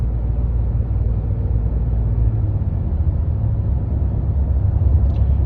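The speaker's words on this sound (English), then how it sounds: "what the exhaust sounds like on the inside of the truck" Ford F150 EcoBoost with an SPD downpipe and custom 3.5-inch exhaust, heard from inside the cab as a steady, loud, low droning rumble with no variation and no talk.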